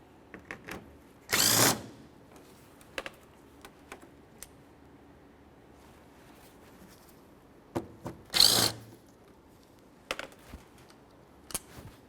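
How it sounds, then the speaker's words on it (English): Power tool removing two 10mm bolts from the license plate bracket of a 2005-2010 Chevrolet Cobalt front bumper, two loud close bursts of whirring separated by quieter clicks and handling taps, no speech. "For this, you're going to remove two 10mm headed bolts."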